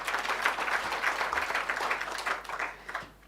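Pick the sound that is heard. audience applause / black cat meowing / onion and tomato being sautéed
audience applause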